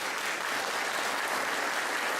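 An audience at a live podcast event claps on cue from an applause sign. The sound is a dense, even wash of applause that holds steady throughout.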